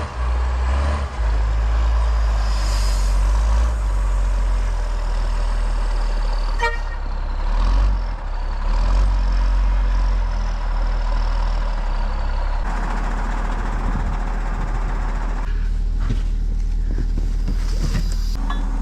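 A military surplus wrecker truck drives on gravel, a heavy continuous low engine rumble with crunching and clatter throughout, steady and close, with no talk.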